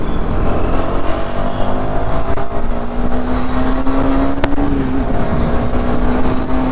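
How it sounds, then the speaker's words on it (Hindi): Motorbike riding at speed, a loud steady engine drone with a rising tone and constant wind roar, close up throughout. "क्या बाइक निकली है भाई"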